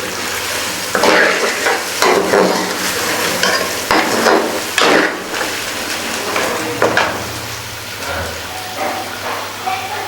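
Beef chunks fry in a karahi, a loud continuous sizzle broken by repeated scraping and clattering bursts of stirring with a utensil against the pan, close up with no talk.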